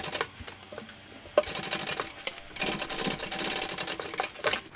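A sewing machine bastes fabric pieces of a small dual-compartment crossbody bag, giving rapid close stitching bursts with brief pauses and clicks, fairly quiet and without any talk.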